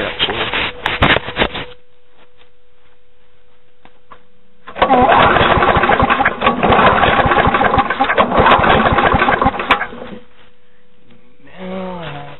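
A small engine fitted with a vaporizing carburetor runs with no gasoline in the tank, water mixed into its fuel; loud, close running bursts cut out, go quiet for a few seconds, then resume for about five seconds before stopping.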